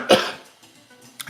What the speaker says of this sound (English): I coughed in advance there.